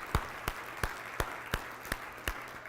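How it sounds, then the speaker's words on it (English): A few scattered claps ring out at a keynote conference, about eight sharp, evenly spaced hand claps at a slow steady beat, fairly quiet and close, rather than full applause. "Give him like a huge round of applause."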